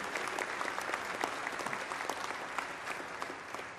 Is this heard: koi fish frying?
no